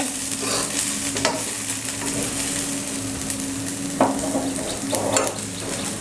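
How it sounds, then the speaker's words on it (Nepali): Potato and bitter gourd fry Nepali style in a pan, sizzling steadily in oil, with occasional scrapes and clinks of a stirring spoon. "हेर्नुस् त आलु करेला फ्राई भइरहेको छ। अझै यसलाई अझै मजाले फ्राई गर्नुपर्छ।"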